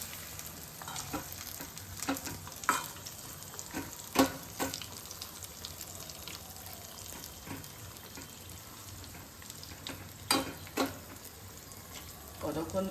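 Sun-dried raw mango pieces, salted and turned with turmeric, fry in hot oil for Bengali pickle oil, giving a soft steady sizzle with occasional clinks and stirring knocks, fairly quiet and close.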